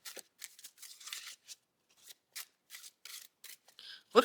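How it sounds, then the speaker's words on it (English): Overhand shuffling of a new tarot deck: a series of short, crisp papery swishes and flicks in an uneven rhythm, close and fairly quiet, with a sharper slap at the very end. "Oh, they overhand nice. They shuffle nice."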